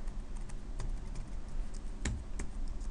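Quick, irregular keystrokes on a computer keyboard, close and moderately loud over a faint background hiss, with a few sharper key hits.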